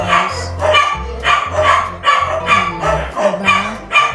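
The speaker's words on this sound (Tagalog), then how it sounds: "ang ingay na naman ng aso guys" Dogs in a neighbourhood of homes bark repeatedly at close range in loud bursts with short pauses between, with some yips and whimpers and no talking over them.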